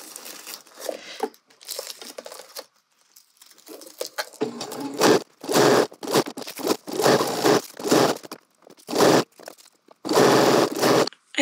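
A sewing machine stitches a straight seam in bursts, starting with soft, sparse clicks and then running in several loud, rapid whirring runs separated by short pauses as the fabric is turned.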